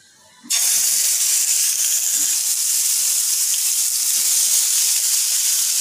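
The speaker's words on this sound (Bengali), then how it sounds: "এবার চিকেনগুলো দিয়ে দেবো।" Tandoori chicken pieces go onto a hot oiled tawa with a sudden loud sizzle that stays as a continuous, close hiss of frying.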